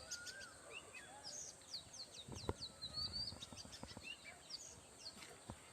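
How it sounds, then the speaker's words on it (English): Birds sing in a quiet village setting on an afternoon, faint scattered chirps and short trills over a soft outdoor background, with a few light knocks or handling noises in between. "The singing of bird."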